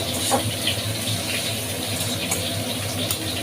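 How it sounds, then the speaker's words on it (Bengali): Water poured into a pan of frying masala while cooking an egg bati chorchori, a steady close hiss and gush of liquid hitting hot oil that continues throughout with no talk. "তো এর মধ্যে দিয়ে দেবো একটু সামান্য পরিমাণ জল, যাতে না মশলাটা পুড়ে যায়।"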